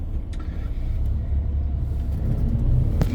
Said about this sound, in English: Much traffic, huh?